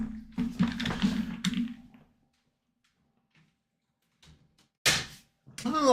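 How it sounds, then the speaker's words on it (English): Indoors, a door is pushed shut with a brief solid thud after a spell of talk and near silence, and a voice resumes right after it. "Now I do have to close the door."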